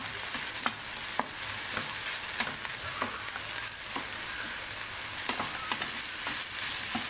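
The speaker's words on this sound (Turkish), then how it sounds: "tereyağını da ilave edip hafiften böyle birazcık kızartıyorum." Chicken pieces frying lightly in a small amount of butter in a pan for chicken soup, a steady close sizzle with scattered pops and crackles, no voices.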